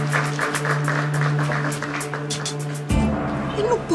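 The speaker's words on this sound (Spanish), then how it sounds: "Un aplauso para ellas." An audience claps for contestants at a televised beauty-and-intelligence pageant, giving quick, crackling applause for about three seconds before it cuts off abruptly.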